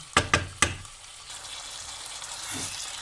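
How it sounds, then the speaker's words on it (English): Lamb meat for curry frying in a pot, a steady soft sizzle running throughout, with a few sharp knocks of a utensil against the pot near the start. "the meat has now been cooking for about 3 minutes"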